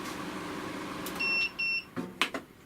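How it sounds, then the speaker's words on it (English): A Record Power AC400 two-stage workshop air filter gives a double beep as it switches off, two short clear electronic tones over a low room hum, followed by a few faint knocks. "Double beep when it's turned off."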